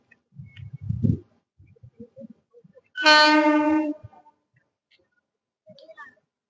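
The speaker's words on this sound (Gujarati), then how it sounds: "જે આ સામની તરફથી ટ્રેન આવેલી તે વેરાવળ સોમનાથ તરફથી આવેલી અને બાંદ્રા મુંબઈ તરફ જતી" The Saurashtra Janta passenger train from Veraval Somnath to Bandra Mumbai, hauled by an electric engine, sounds one loud, steady horn blast of about a second at Navagadh railway station, with brief low rumbles and quiet gaps around it.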